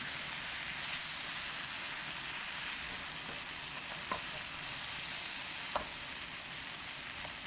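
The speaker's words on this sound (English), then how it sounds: "Stir this up We're trying to get a good base and a good sauce in there." A creamy ranch-dressing sauce base simmers in a pan and is stirred, giving a faint, steady sizzle and bubbling hiss with a couple of soft scrapes, no voices.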